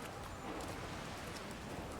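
Rain falling in the Resident Evil Requiem game on a New York street, a faint, even hiss of drops on surfaces that continues steadily without breaks.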